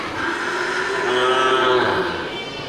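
A Simmental bull in a fattening pen lets out one long, loud, close moo that swells and fades.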